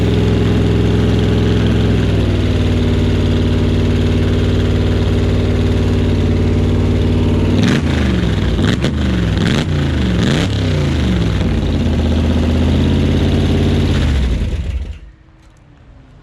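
A big block Barracuda engine that is blowing oil runs loud and close with a rough, lumpy idle, then revs in a few sharp blips before being shut off and falling silent.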